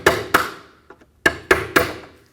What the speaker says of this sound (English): Now we have to punch out the grommets for the VVT solenoids.